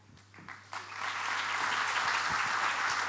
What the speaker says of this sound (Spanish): a ver cómo se escucha ese fuerte aplauso para Juan Sasturain